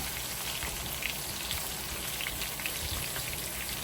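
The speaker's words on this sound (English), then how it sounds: "Let it fry for a little bit" Chicken browning in a pan with oil, a steady, fine crackling sizzle with scattered pops, close and even throughout, with no talking.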